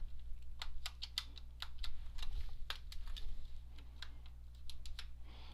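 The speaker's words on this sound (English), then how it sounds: "I'm going to nudge it in underneath each knob and lever it back to loosen it from the encoder shaft" Synth knobs pried off encoder shafts with a knob paddle on a Vector panel, a series of sharp, close clicks and ticks in an irregular rhythm over a steady low hum.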